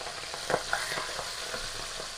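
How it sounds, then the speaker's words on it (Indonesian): Anchovies (ikan bilis) fry in hot oil with a soft, continuous sizzle and a few faint crackles and pops. It stays quiet throughout, with no voices. "kita masukkan ikan bilis, langsung kita goreng"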